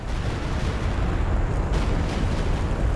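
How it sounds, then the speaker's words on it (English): Stuka barrage explosions in Company of Heroes 2 form a dense, continuous rumble of heavy booms, loud and sustained with no break, and no voices. "Now, where is that Stuka barrage coming in?"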